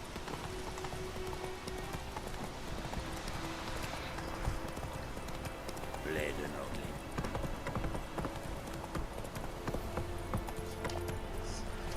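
A horse's hooves clip-clop steadily through the whole stretch in the video game The Witcher 3, a busy rhythmic clatter over ambient noise with a brief whinny-like cry midway.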